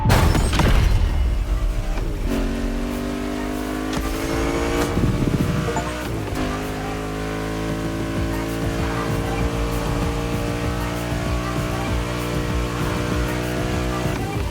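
A Porsche 911 engine in the racing game The Crew Motorfest drones loudly and steadily, with gear-shift pitch drops and rising revs, alongside game music.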